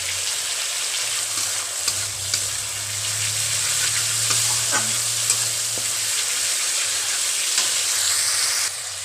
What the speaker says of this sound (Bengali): মশলাটা ততক্ষণ পর্যন্ত ভাজবো যতক্ষণ না তেলটা ছাড়ছে।